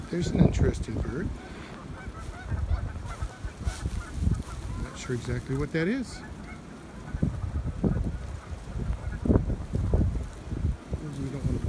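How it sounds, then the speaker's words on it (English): A bird at the Tule Springs ponds gives several honking calls among wind noise and outdoor sounds, with a person talking briefly. "There's an interesting bird."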